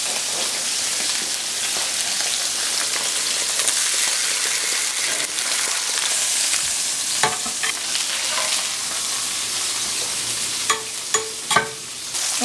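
Salmon fillets sizzling in a hot pan as they are flipped, a loud steady frying hiss with a few sharp clatters near the end, no one talking.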